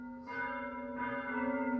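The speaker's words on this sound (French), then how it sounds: "Et écoutez ces petites cloches-là." Small bells ring with a sustained, clear metallic tone, two soft strikes layered over one another, moderately near and alone.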